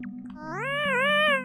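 A single rising, drawn-out synthetic cat meow from the Yume Nikki video game, loud and clear over a steady low background drone.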